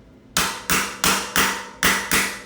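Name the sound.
hammer tapping T45 Torx socket into stripped RockShox Maxle axle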